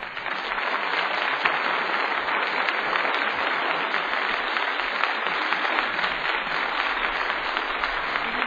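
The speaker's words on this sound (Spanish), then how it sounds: "para quien pido un fuerte aplauso" An audience gives a strong, sustained round of applause for maestro Julián Blanco at a Rotary choral concert, dense even clapping at a steady level from start to finish.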